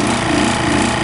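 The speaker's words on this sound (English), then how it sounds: "let the pump finish up here, or should I say recovery, finish up" A refrigerant recovery pump runs during repair of a leaking heat pump evaporator, giving a loud, steady mechanical drone with a constant low hum and no pauses.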